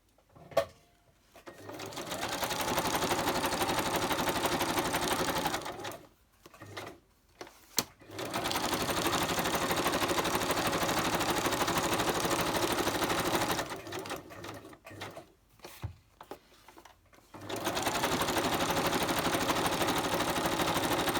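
Sewing machine zigzag stitching around the edges of a napkin collage craft page, running in long steady bursts with brief pauses between passes, close and loud.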